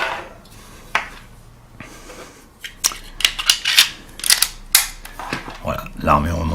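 Sharp metallic clicks and clacks from reassembling a Tokarev 1933 pistol and locking its slide, a burst of close, irregular snaps after a few quieter handling sounds.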